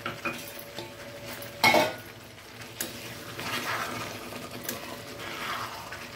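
Cauliflower and green pea masala sautéing in a pan with a little boiling water added, giving a soft, quiet sizzle under scattered scraping and stirring clinks from a spoon, with one louder clatter early on.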